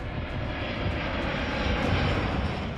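Air China Boeing 747 engines, the jet used to carry the Chinese president, give a loud, steady roaring drone that holds even and unbroken throughout.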